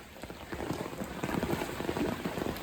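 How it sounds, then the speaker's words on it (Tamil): Heavy rain pouring during a cyclone, a steady dense hiss of drops drumming on surfaces, moderately loud and continuous with no talk. "இந்த மழை இந்த முறை காணுமடா சாமி"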